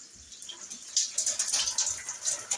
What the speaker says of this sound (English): it barely trickles out.